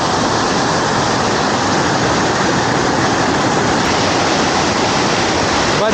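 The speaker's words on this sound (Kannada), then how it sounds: "ಸಖತ್ತಾಗಿರುವಂಥ ಜಲಪಾತ ಇದು." Bajpe Madaka waterfall, near Mangalore, pours in a close, loud, constant roar of crashing water that holds steady throughout, with no clear talk.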